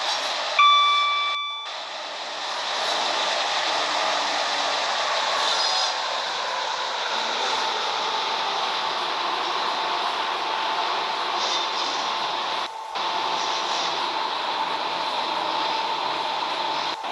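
A Class 456 electric train runs in the video game Project Transit. A few short beeps sound at the start, then a steady, droning motor hum and rolling noise carry on evenly, with a brief dip in the middle.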